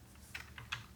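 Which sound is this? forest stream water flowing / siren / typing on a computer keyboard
typing on a computer keyboard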